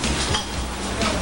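Dishes, pots and cutlery clink and clatter faintly in a busy Hong Kong restaurant kitchen where tableware is being washed, a continuous low jumble of kitchen noise with no voices.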